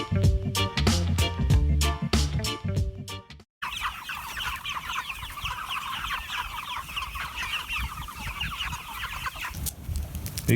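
Turkeys on a farm call out in a string of clucks and gobbling squawks over steady outdoor ambience, following a few seconds of music that cuts off abruptly.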